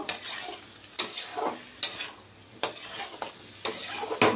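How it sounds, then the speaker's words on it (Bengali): Fried cauliflower florets being stir-fried in a pan, a soft sizzle underneath sharp, regular scrapes and clinks of a spatula against the metal roughly once a second, close by and without speech. "এখন ভেজে রাখা ফুলকপিগুলি দিয়ে দিব দিয়ে এখন কষিয়ে নিব আরও এক মিনিটের মতো"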